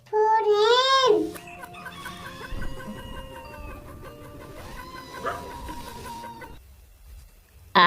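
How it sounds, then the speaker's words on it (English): Hen clucking and crowing-like calls, loud and close at the start, followed by a bed of farmyard fowl sounds, with a sharp return at the very end. "H for hen."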